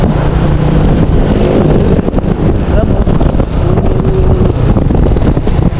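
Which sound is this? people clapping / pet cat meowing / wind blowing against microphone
wind blowing against microphone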